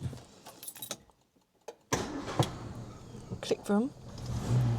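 A Rover P4 engine turns over after some jangling of keys and catches, then runs at a low, rough idle close by while a person speaks briefly.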